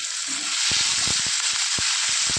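Onion and garlic sautéing in a pan for a spicy jackfruit seed chilly curry, a steady bright sizzle with scattered crackles and a few stirring knocks, close and alone.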